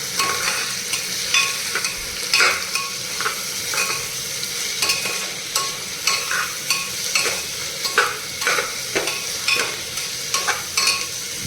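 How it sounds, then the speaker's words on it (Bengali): Small onions sizzle steadily in a pan for a home-style Punjabi rajma chawal, with frequent scraping stirs of a spatula cutting through the hiss in an irregular rhythm, close and moderately loud, no voices. "এবার আগে আমাকে খুব ভালো করে নাড়তে হবে।"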